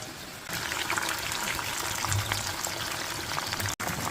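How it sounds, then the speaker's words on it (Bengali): Chicken wings sizzle in hot frying oil with a dense, steady hiss and crackle that starts abruptly and stays loud and close throughout. "এখন উইংসগুলো তেলে ছেড়ে দিলাম ভালোভাবে ফ্রাই হওয়ার জন্য।"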